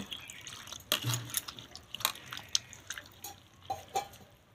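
Crushed elephant apple is rinsed in water, with faint, scattered splashes and drips at irregular intervals in a quiet kitchen, no talking.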